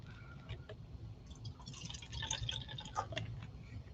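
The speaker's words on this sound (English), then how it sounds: "Just changing out our water here." Water being poured to refill a paint water cup during miniature painting, a soft trickling and dripping run close by over a low background hum, with no talk.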